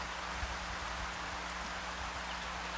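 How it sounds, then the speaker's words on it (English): Steady rain falling outdoors, a dense, even hiss with a low rumble beneath, faint and continuous with no voices. "It started to rain."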